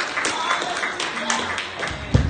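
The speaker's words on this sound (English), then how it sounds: "give the Lord a hand clap of praise" A congregation at a Saturday night church service claps hands in praise, giving scattered, sparse claps under a voice that keeps talking.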